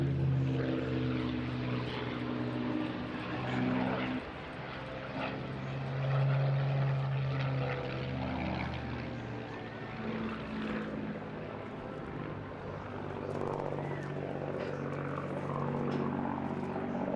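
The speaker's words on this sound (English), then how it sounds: "The aircraft itself is just one of 2 Mark 11s remaining in airworthy condition" A Spitfire Mark 11, one of two still airworthy, flies at the Eastbourne International Airshow, its propeller engine giving a continuous loud droning roar that swells and eases slightly as it passes, with no voices.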